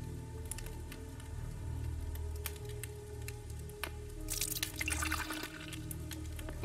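Water trickles and drips through a filter in the Day R survival game, soft irregular droplets over a low hum, with a brief burst of splashing in the middle.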